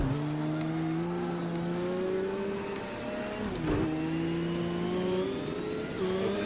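A rally-style race car in a dirt-track video game revs steadily, its engine note climbing and dipping through gear changes, loud and close with no speech over it.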